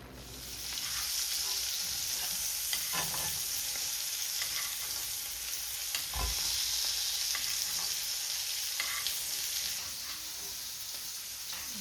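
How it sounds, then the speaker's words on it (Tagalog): Broccoli cooking in butter in a pan sizzles steadily and continuously, a close, even frying hiss with faint occasional stirring scrapes, no talk over it. "Paluto na natin yung broccoli sa butter"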